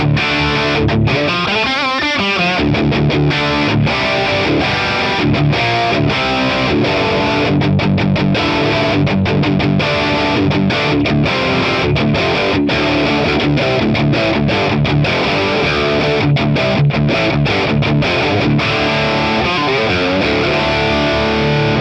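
Heavily distorted electric guitar riffs through a capture of a Marshall Vintage Modern amp, reverb off, loud and continuous with chugging palm-muted bursts, played alone without any voices.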